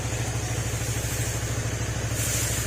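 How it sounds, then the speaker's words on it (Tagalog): A repaired motorcycle engine, its clutch recently fixed, runs steadily at idle with a continuous low throbbing rumble and light mechanical clatter, close and fairly loud, with no talk over it. "Smooth na uli yung tunog ng motor mo"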